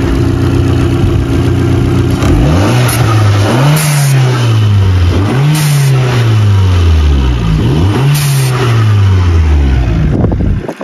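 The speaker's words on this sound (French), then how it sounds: "Pour vous montrer un petit peu comment on entend la dump." A tuned Abarth Competizione engine revs repeatedly, rising and dropping in pitch, with sharp hissing bursts from the dump valve after several revs, loud and close.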